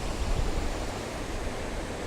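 A waterfall in Ogwen Valley, heard as a steady, even rush of falling water, fairly soft and unbroken throughout, with no voices.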